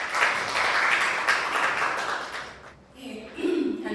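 An audience at a Korean dance academic symposium applauds to welcome a speaker, a steady wash of clapping that fades before a voice begins speaking at the end.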